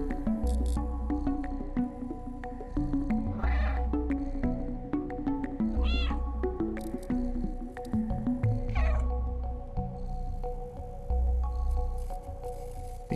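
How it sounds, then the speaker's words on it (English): A video-game cat in Stray purring beside a sleeping figure, with a few soft meows rising over a low, steady rumble and ambient game music throughout. "The purring, it kills me."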